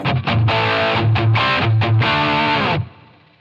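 Distorted electric guitar played through a Line 6 Helix with Ganymede reverb set for a light room ambience, several loud chords ringing in a row and then cutting off to a short reverb tail.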